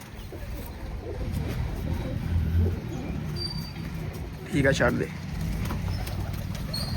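Pigeons, including black ones newly brought from a friend, coo softly and nearby while someone talks over them, with a brief louder flutter of activity midway.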